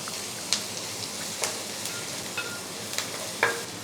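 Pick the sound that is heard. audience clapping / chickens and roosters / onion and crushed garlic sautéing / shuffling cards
onion and crushed garlic sautéing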